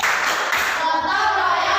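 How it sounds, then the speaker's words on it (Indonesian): Children clap a rhythmic PPK clap pattern at a faster pace, quick hand claps in a loud group with voices mixed in. "sekali lagi tepuk PPK lebih cepat"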